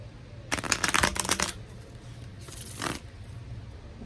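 Tarot cards are shuffled in two quick riffling bursts, the first about a second long and the second shorter, crisp and close with quiet between them.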